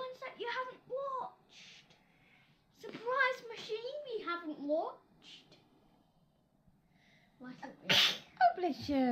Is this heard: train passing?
no